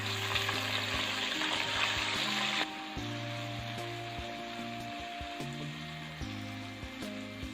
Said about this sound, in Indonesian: Untuk tahap pertama, terlebih dahulu bumbu halus kita tumis sampai wangi.